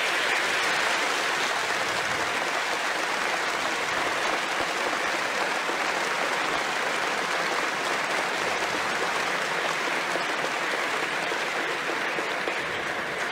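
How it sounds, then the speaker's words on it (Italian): A large congregation applauding the Pope during an episcopal ordination in church, sustained dense clapping that rolls on at a steady, loud level for several seconds, with no speech over it. "e facciamo un applauso a Papa."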